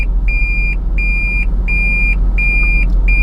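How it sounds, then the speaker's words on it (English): Toyota Prius reverse warning sounding a steady series of loud, clean electronic beeps, evenly spaced about every half second, close by over a low engine and road rumble, with no talking. "If anybody who drives a Prius knows how to shut this beeping sound off that turns on when you're in reverse"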